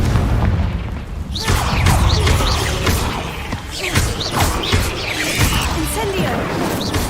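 Spell explosions in the Hogwarts Legacy video game, including the Confringo blast: repeated loud booms and crashing bursts over a constant rumble, closely spaced through the whole stretch, with a voice talking over some of them.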